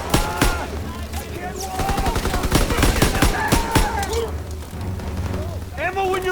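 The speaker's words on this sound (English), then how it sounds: "Where's all this fire coming from?" Heavy gunfire in Call of Duty WW2, with rapid machine-gun bursts and booming shots crackling continuously at close range while voices shout over the battle.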